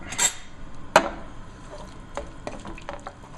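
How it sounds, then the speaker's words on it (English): Soft scraping and stirring of herbs in a frying pan, with a couple of sharp clinks of a utensil against metal, close by and otherwise quiet. "I'm just going to put them all into my frying pan, and then I'm going to mix everything up"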